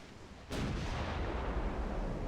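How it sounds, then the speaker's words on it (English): A warship takes a torpedo hit in Ultimate Admiral: Dreadnoughts, an 1890s Italian naval battle, and a sudden heavy explosion erupts into a sustained, dense roar of blast and rumble that carries on without pause. "Oh, got a torpedo hit."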